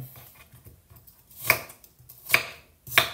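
Onion being chopped into large pieces on a cutting board, three sharp, spaced knife thuds over soft background clatter, close by.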